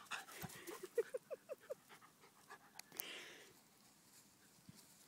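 An excited dog pants and whimpers near the microphone in a rapid series of short, pitched whines, followed by a brief rustle and then quieter breathing.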